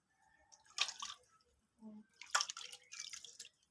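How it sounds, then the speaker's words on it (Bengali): Golda prawns are rinsed in water, with a few soft splashes, drips and squishy handling sounds, faint and close, in short irregular bursts. "ধোয়া হচ্ছে মাছগুলি।"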